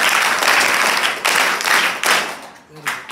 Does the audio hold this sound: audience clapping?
yes